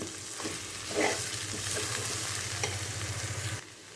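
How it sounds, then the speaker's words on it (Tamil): Egg and vegetable fried rice stirred in a pan, steady scraping and soft sizzling running for several seconds at close range, then cutting off near the end. "இப்போது நல்லா ஒன்று சேர கலந்து விட்டுக்கலாம்."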